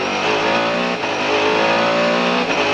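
A Mercedes CLR race car at Le Mans in 1999, heard on board, howls loud and steady at high revs, its engine note holding with only a short dip as it pounds down the back section.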